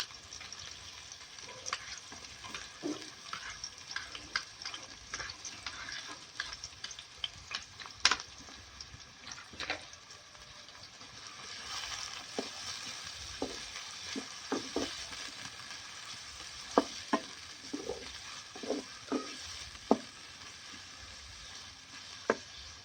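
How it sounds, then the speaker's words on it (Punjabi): Onions and green chilies frying in a pan for desi-style okra bhindi, giving a steady crackling sizzle with frequent scraping stirs and soft clicks from a spoon throughout. "ਪਿਆਜ਼ਾਂ ਦੇ ਨਾਲ ਹੀ ਆਪਾਂ ਭੁੰਨ ਲਾਂਗੇ ਜੀ ਹਰੀਆਂ ਮਿਰਚਾਂ ਨੂੰ ਵੀ"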